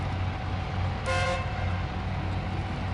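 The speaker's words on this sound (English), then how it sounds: "Nice honk." A single short truck horn blast in the Snowrunner video game, about a quarter-second toot heard over a constant low engine rumble.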